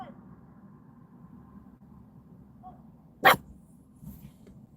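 A single sharp dog bark sounds out loudly once, with a faint whimper-like sound shortly after, above a low quiet room background.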